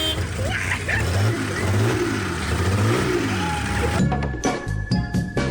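A car engine revs up and eases off in repeated rising and falling sweeps, loud and close, during attempts to get the car running again, then drops to a rougher, uneven running sound near the end.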